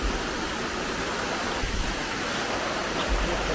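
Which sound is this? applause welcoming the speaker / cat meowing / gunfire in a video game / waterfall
waterfall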